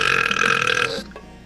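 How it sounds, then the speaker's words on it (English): A single loud, drawn-out human burp lasting about a second and cut off abruptly, close to the microphone. "That looked like you just opened your mouth and put a sound effect of a burp in."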